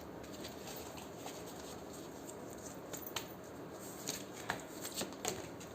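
Angel oracle cards are shuffled by hand in a quiet room, making soft, continuous papery riffles and flicks, with a few crisper slaps toward the end.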